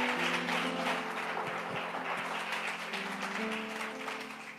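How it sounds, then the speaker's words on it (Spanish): Church congregation clapping together in a steady, dense patter throughout, fairly quiet and heard from within the room. "Dé el aplauso al Señor, eso te da seguridad."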